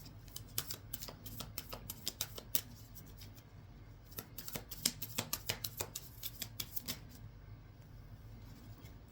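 Soft, close flutters and crisp clicks of tarot cards being shuffled in quick, irregular bursts, with no voices.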